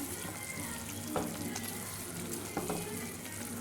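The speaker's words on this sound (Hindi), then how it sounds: "अब मैं इसमें डालूँगी बॉम्बिनो जो मैंने रोस्ट किए हैं। अब मैं इसे मिला दूँगी" Roasted bambino vermicelli stirred into a hot pan, giving a steady close sizzle broken by a couple of sharp scraping stirs, with no talking.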